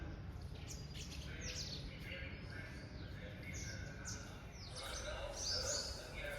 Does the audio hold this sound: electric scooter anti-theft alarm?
no